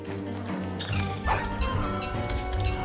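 Dogs in the Don't Starve Hamlet video game bark and yip repeatedly in quick bursts, close and fairly loud, with a whimper mixed among the game sounds.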